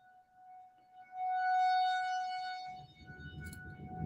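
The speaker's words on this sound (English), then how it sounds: "Y'all let me know if that's how loud that is, that siren is." A long, steady tornado warning siren wails at a sustained pitch, loud and piercing, with low rumbling background noise joining toward the end.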